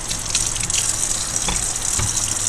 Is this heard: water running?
yes